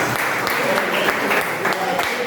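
A church congregation gathered in a garage service claps hard in praise, dense sustained applause with a voice cutting through at moments.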